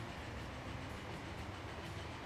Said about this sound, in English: Another passing train.